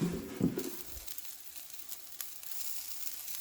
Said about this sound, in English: I've got one over here that's frying